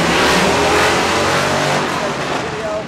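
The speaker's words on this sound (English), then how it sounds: "in the car show they had cars that are really, really loud" A loud car engine revving hard at a car show, a thick roaring drone that fills the whole stretch and eases off only slightly toward the end.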